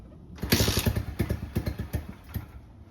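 A small pit bike engine sputters and pops nearby in uneven bursts, cutting in and out at half throttle with a choppy, stumbling rhythm after a brief quiet start.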